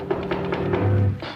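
A door is knocked about four times in a quick, evenly spaced series of light taps, close by in a quiet room.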